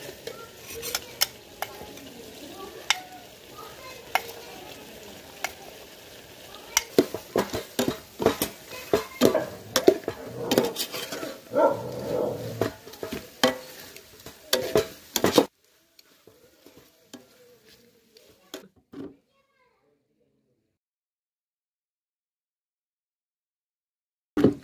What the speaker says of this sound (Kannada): ಮಸಾಲ ಹಾಕಿ ಮಿಕ್ಸ್ ಮಾಡಿದ್ದೀನಿ.